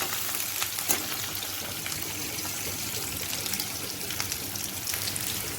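Chopped onion frying in a pan of oil for a simple home-cooked bottle gourd curry, giving a steady, close hiss and crackle with faint watery spatters throughout and no one talking.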